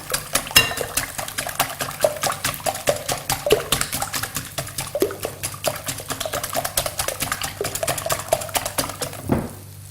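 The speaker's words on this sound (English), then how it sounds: "crack 6 free-range eggs into a bowl and beat well" Free-range eggs cracked into a bowl and beaten with a utensil, a rapid run of close, sharp clinking taps against the bowl that continues steadily, with no talking.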